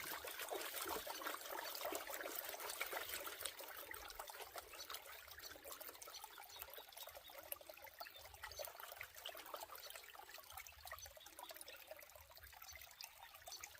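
Water sloshes and trickles steadily while light sediment is washed out of a gold pan at a creek near Melbourne, faint and continuous with no speech.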